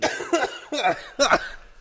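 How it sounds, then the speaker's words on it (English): Four harsh, raspy coughs from a weeks-long cough come close together in two quick pairs, loud and near. "I've been coughing for like 3 weeks straight."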